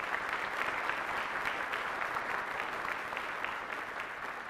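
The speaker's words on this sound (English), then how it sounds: "How about a big round of applause for her." Audience applause at a high school senior recognition night, honouring the senior counselor: a continuous, fairly soft wash of many hands clapping that tapers slightly toward the end, heard from some distance.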